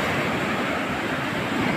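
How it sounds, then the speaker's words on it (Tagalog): Heavy ocean surf roars steadily, a broad wash of crashing water with wind noise buffeting the microphone, no voices. "Malakas na silang alon."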